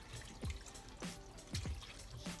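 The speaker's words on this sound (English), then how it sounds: "I'm gonna rinse the chicken first by itself" Tap water runs and splashes while raw chicken is rinsed in a kitchen sink, a faint trickle broken by several soft drips and plops, with no voices.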